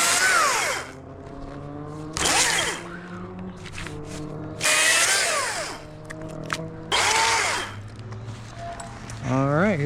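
A saw cuts small branches during a 120 ft tree removal, with loud bursts of engine whine that rise and fall in several separate cuts. Voices talk between the cuts.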